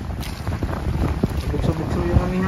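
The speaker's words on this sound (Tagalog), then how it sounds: "Lakas ng hangin guys, lakas ng" Strong amihan wind blows in gusts across Boracay's beach, roaring and buffeting close to the microphone, with faint voices and background activity mixed in.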